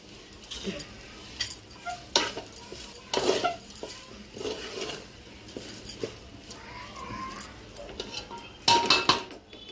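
A spoon stirs the rice layer of a chicken dum biryani in a pot, producing irregular metallic scrapes and clinks close by, with a few sharper knocks toward the end.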